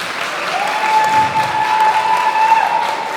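An audience at a cosplay contest applauds steadily, a dense even wash of clapping with faint cheering and a high tone running underneath.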